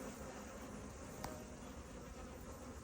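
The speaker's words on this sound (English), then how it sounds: "African bees." A wild swarm of African bees hums in a faint, continuous buzz outdoors, steady and dense without pauses.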